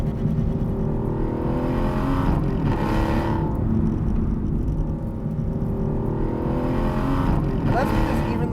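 Aston Martin V12 Vantage S sports car with a 6-liter V12 engine, a steady loud engine drone with a rise in revs, heard continuously under someone talking.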